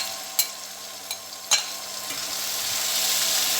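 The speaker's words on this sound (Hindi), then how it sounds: "अब इसको इसमें अच्छी तरह भूनेंगे" Okra and green chillies stir-fried in a pan for restaurant-style masala bhindi, with a soft steady sizzle that builds gradually and a few sharp spatula scrapes and taps near the start, no talking.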